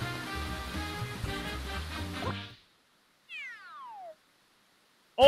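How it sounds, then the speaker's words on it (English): A cartoon cat meows in a Super Mario game, a short falling mew sounding alone after game music cuts out, followed by a sudden loud burst at the very end. "Kitty cat."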